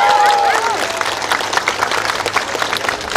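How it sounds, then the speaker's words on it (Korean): Crowd applause at an outdoor campaign launch rally for a Democratic Party mayoral candidate in Icheon, Korea: dense, loud clapping throughout, beginning under a trailing voice and continuing alone to the end. "여러분께서 제 말이 맞다면 큰 박수를 주시기 바랍니다."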